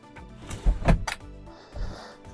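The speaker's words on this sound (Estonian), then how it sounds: "Voodi saab üles lükata." Bed in a Carthago C1-Tourer 148 motorhome being pushed upward, a short sliding rumble with a couple of soft knocks, close and brief.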